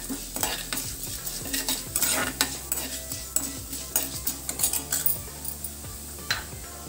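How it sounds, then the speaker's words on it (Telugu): Seeds and chana dal frying in a pan, stirred with a spoon in quick, steady scraping strokes over a constant gentle sizzle, close and clear with no talking. "మంచి సువాసన వచ్చే వరకు వేయించుకోవాలండి"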